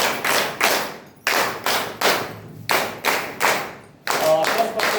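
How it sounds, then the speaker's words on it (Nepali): Audience applause for team leaders at a gathering comes in repeated bursts of loud, close hand-clapping, each swelling and fading before the next, with a short pause between bursts. "एकपल्ट सम्पूर्ण टिम लिडरलाई चाहिँ जोरदार ताली दिनु"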